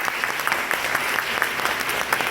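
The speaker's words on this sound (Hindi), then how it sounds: "उन सभी के लिए तालियां।" Steady applause from a college audience at an award letter distribution event in Meerut runs continuously throughout, dense and even, with no voices over it.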